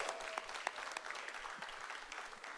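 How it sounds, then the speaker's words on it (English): Applause breaks out at a city council meeting in Half Moon Bay, a room full of steady clapping heard from some distance, even and sustained throughout. "Another big round of applause."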